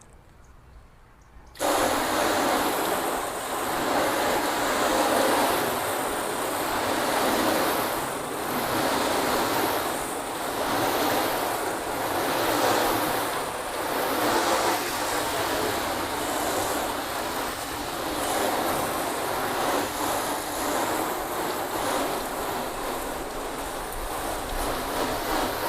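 A steady, loud water spray rinses a car during a spray sealant test, a continuous hissing rush that starts abruptly and runs unbroken to the end.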